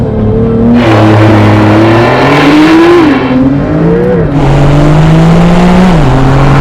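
Porsche 911 with Sport Chrono pulling away on launch control, a loud close engine roar climbing through the revs, dipping briefly at each gear change and rising again.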